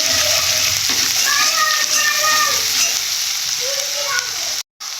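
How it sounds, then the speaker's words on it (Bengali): Turmeric and chili powder frying in a pan of oil, giving a steady close sizzle with soft stirring scrapes and a brief dropout near the end. "হলুদ দেব গুঁড়ো লঙ্কা দেব ভালো করে ভেজে নেব এইভাবে"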